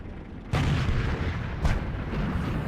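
A World of Tanks cannon round strikes an IS-8 heavy tank: two sharp booming impacts about a second apart, loud and close, over a constant rumble of battle noise.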